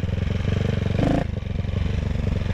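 A CCM Spitfire Six motorcycle being ridden while still being run in, its engine giving a steady throbbing pulse with a brief rise in revs midway, close and fairly loud.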